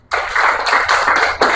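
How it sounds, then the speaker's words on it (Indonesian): Classroom applause for a student, a burst of hand clapping starting abruptly and continuing for over a second with uneven pulses, close and fairly loud, no talking. "Oke, tepuk tangan untuk Anai."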